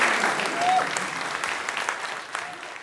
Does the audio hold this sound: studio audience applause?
yes